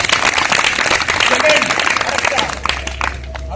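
Clapping from children at a general theatre workshop in a school, a burst of many hands applauding together, loud and close, tapering off toward the end.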